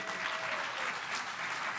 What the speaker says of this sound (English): can we all give a big round of applause for this wonderful group?